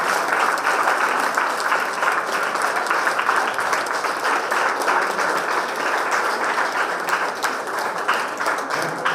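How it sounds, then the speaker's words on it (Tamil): A crowd applauds steadily for a child reciting Thirukkural verses at an educational trust event, the dense clapping sustained and even throughout with no pauses. "உங்க கைதட்டு அதிகமா இருந்தா தான் அவங்க கொஞ்சம் உற்சாகமா இருக்கும்"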